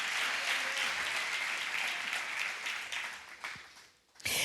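A church congregation claps in a dense, sustained round of applause that thins out and drops away briefly before a sharp burst of clapping returns at the end.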